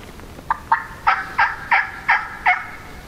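A wild turkey gobbles in a rapid run of about seven rattling notes, clear and fairly close, during an Oregon spring hunt after a call.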